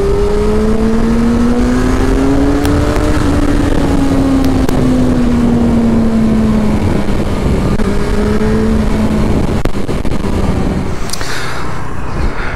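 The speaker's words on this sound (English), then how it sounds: "So driving through the night." Motorbike riding through the night on the road from Pune to Satara, a steady engine drone with shifting pitch and constant wind and road noise throughout, loud and close with no talking.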